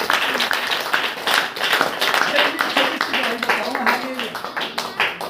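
A church congregation clapping hands in rapid rhythmic bursts during a prayer meeting, mixed with loud voices talking and chanting throughout.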